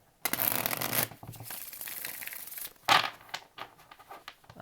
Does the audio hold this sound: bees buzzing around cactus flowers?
no